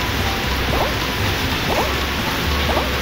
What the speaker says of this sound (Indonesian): Hujannya nggak kelar.